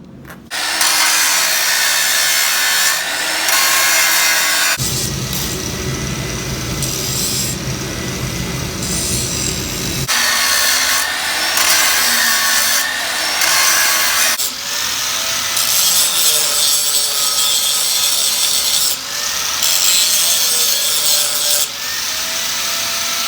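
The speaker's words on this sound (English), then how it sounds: "now we need to grind and dress up," A power grinder dresses a groove on a forged blacksmith's anvil devil, a loud, harsh, continuous abrasive whine that shifts in pitch and texture as the tool moves across the steel.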